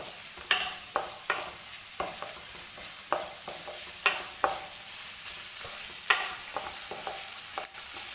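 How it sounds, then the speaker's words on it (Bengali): Chopped ginger, garlic and onion fry in white oil for chicken momo filling, a steady soft sizzle broken by regular spatula scrapes and stirs against the pan, close and alone. "আগে আদা রসুন আর পেঁয়াজ কুচিগুলো আগে একটু সাদা তেলে ভেজে নেব"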